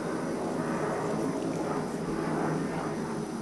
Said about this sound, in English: That jet's just going past again.